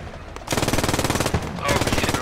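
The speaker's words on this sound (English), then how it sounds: "And we're taking shots from the front." Rapid machine-gun fire in the World War II shooter Post Scriptum, loud sustained bursts of evenly spaced shots with a short pause midway, close and dominant.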